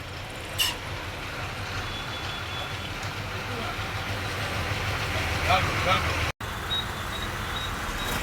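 City traffic in Chennai, a steady low rumble of engines and passing vehicles with occasional horn-like tones and rattles, continuous and fairly close throughout.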